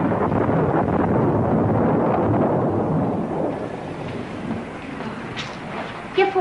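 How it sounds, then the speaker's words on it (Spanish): A film thunderstorm rolls with a long, loud thunder rumble over steady rain, the roar fading toward the end, where a few faint higher sounds break in. "¿Qué fue, mamá? ¿Es un rayo?"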